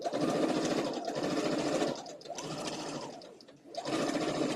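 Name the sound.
sewing machine stitching the last seam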